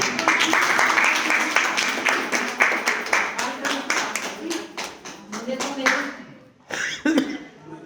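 Audience applause at a New Year's Day program, a lively burst of many hands clapping that thins into scattered claps and fades toward the end, with a few coughs and voices mixed in.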